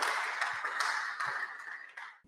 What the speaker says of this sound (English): And so an applause once again.